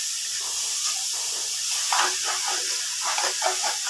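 Grated coconut and sugar frying in a pan for dudh puli pitha, giving a steady close hiss and sizzle that swells in soft bursts near the end, with no talking.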